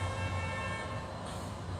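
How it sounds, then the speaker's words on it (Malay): A sustained vehicle horn blares from outside during an Islamic lecture marking Nuzul Al-Quran, a steady droning toot heard at a distance over room hum. "maaf bukan saya yang bagi horn tu"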